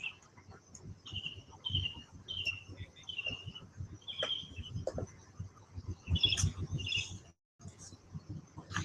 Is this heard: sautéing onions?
no